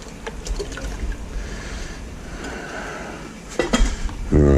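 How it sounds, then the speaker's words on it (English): Water splashes and trickles in a copper bowl during a rinse after silver cleaning powder work, with metallic clinks of the bowl and a louder burst of sloshing near the end. "Might even just give it a bit of a rinse."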